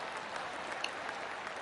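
Soft golf-clap applause from a golf video game crowd, a brief, even patter of distant clapping at low volume, no talking.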